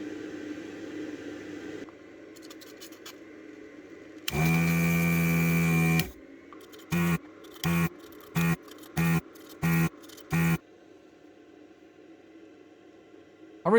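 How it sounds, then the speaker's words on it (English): Desoldering a chip on an Amstrad 464 Plus circuit board with a desoldering pump and braid, a loud sustained hiss followed by a rapid series of six short sharp clicks or pumps, with quiet workbench noise around them. "I really like this method of desoldering pump and braid."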